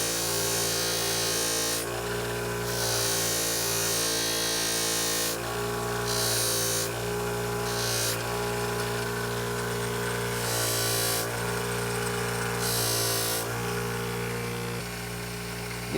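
Two-blade broadhead being sharpened to take off the burr, a steady scraping and rasping of blade edge against a sharpener, in loud continuous strokes with brief bright bursts, close by and without talk.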